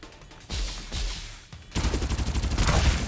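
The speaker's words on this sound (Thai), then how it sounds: "เราสามารถยิงปืนกลางอากาศได้นะฮะ" Gunfire in the battle royale video game Farlight 84: a few separate heavy shots, then a loud, sustained rapid burst of automatic fire that stays up close.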